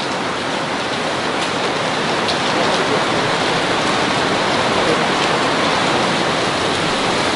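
Heavy rain falling steadily and loudly, a dense continuous hiss with no breaks and no voices over it.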